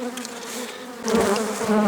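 A close, loud swarm of honey bees hums and buzzes continuously at an opened hive during frame changes, the drone swelling slightly partway through.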